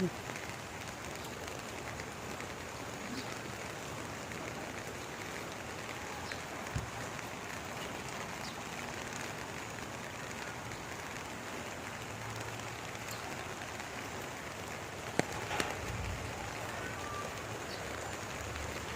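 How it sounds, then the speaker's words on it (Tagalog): Steady broadband hiss of rain falling, constant and fairly close, with an occasional louder tap or knock standing out briefly. "baka biglang lumakas yung ulan"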